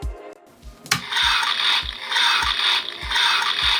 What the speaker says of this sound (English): if you move its jaw manually, it triggers this chomping sound like it's devouring soldiers